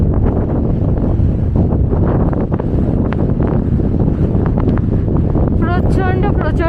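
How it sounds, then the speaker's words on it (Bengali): Strong, cold wind roars across the microphone at high-altitude Tso Moriri lake in Ladakh, a loud, continuous buffeting rush with dust blowing, while a voice speaks faintly under it. "এখানে খুব জোরে হাওয়া চলছে।"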